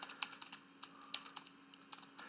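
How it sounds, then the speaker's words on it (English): Rapid, uneven keystrokes on a computer keyboard, close and fairly quiet, clicking in quick bursts with short pauses while typing out wine information. "I'm just typing weird things out there"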